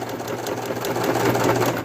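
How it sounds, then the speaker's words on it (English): A sewing machine stitches through a thick plush toy, a close, steady mechanical whirr with fast rhythmic needle pulses running continuously for about two seconds, no talking. "This whole head, even this fin, the ears, all that is sewn through this machine."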